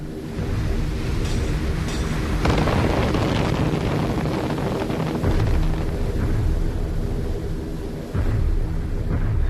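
Flak barrage explosions burst around bombers flying straight and level toward Berlin, a dense, continuous roar of rumbling blasts and crackle with several sharper bursts standing out, loud and close throughout.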